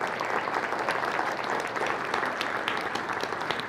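An audience at a cancer institute's annual gathering gives a steady round of applause for a top fundraising team, a continuous, full clapping that stays even throughout.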